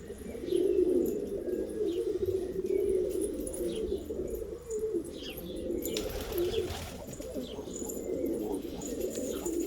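Pigeons cooing steadily in a loft, low rolling coos layered and continuous nearby, with occasional faint chirps and a brief rustle of wings.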